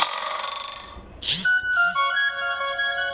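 A TikTok notification sound previewing on an Android phone: a short bright chime followed by a few clear synthetic tones, close and moderately loud after a faint tonal lead-in.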